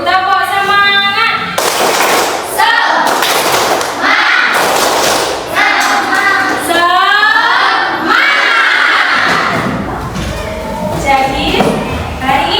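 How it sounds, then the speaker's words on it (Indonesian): A school class joins in a rhythmic clapping chant, bursts of sharp claps and children's shouted voices trading with a teacher's voice in a classroom, loud and close. "Sekarang kita tepuk semangat dulu."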